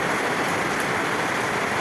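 Rain pours steadily in a village setting, a dense, close hiss of drops striking surfaces that stays even and unbroken for the whole short stretch.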